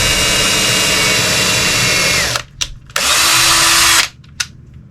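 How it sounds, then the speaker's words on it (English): Power drill boring small holes into a wooden box, two loud sustained whirring bursts with brief spin-down pauses and short blips between them, close up. "I'll go ahead and drill a couple small holes."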